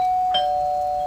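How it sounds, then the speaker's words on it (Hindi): An indoor doorbell ringing a single clear electronic chime tone that sustains steadily, close and moderately loud, with no talk. "फिर अचानक डोरबेल बजी।"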